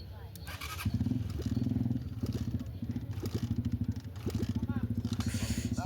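A 2019 Bull Qipai motorcycle under restoration is being started: a close engine chugs in rhythmic pulses, faltering briefly and picking up again, while people talk in the background.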